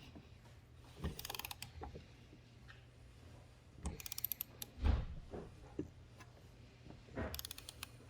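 A torque wrench tightening a bolt to 43 foot-pounds on a 1998 Yamaha Warrior 350 ATV during a rebuild: quiet bursts of rapid ratcheting clicks with creaks and metallic knocks between them.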